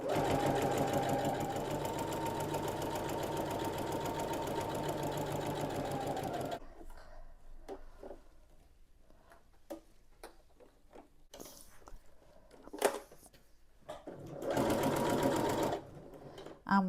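A sewing machine runs steadily for several seconds, back-stitching fabric for a bucket-style storage basket, then stops, leaving scattered light clicks and handling noises before a brief second burst of stitching.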